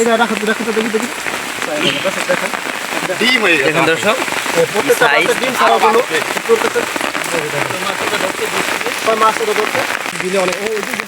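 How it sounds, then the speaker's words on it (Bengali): Heavy rain pours onto a home courtyard, giving a dense, steady hiss and patter throughout, with a person talking over it. "দেখেন অনেক বৃষ্টি এখন একটু বৃষ্টিটা কমে গেছে"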